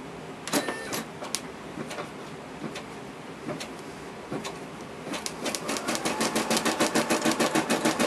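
A Brother SE400 embroidery machine stitching a knit beanie, starting with scattered mechanical clicks and thumps, then settling into a fast, regular rhythmic chatter of needle strokes, close and fairly loud, with no speech.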